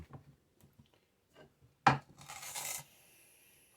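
A rough rasping scrub works tobacco juice and tar conditioner into a wooden board, with a few soft scrapes leading into one loud, sustained rubbing stroke.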